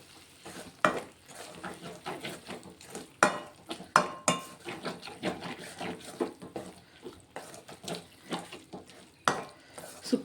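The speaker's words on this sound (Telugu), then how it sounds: "మంచిగా అంతా కలిపేసుకోవాలి" Gongura pickle is stirred and mixed with spice powder in a dish, producing a series of close, uneven scraping and clinking strokes of a utensil against the bowl, with no talking.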